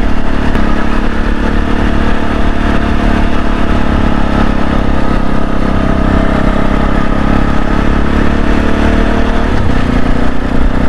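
A racing quad passes on a dirt road in a clay loop, its loud engine droning steadily and close throughout, filling the whole clip without a break.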